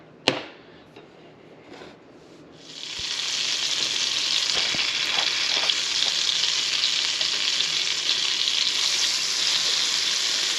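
A big lump of butter hits a hot frying pan while cooking Scotch woodcock with anchovy and eggs: a clink and a couple of seconds of near quiet, then a loud, steady, close sizzling hiss that carries on to the end.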